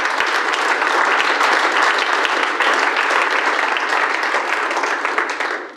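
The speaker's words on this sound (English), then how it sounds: "Give him a round of applause as he joins me." A conference audience at an out-of-home media summit gives a round of applause for a volunteer joining the presenter on stage, dense steady clapping that holds evenly and fades at the end.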